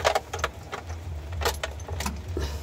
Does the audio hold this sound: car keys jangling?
yes